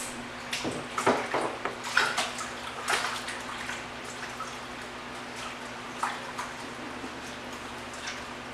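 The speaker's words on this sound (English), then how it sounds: "Wash my hands." Tap water runs and splashes while hands are washed in a home kitchen, with a few sharp clinks and knocks near the start, then a softer, steady trickle that fades toward the end.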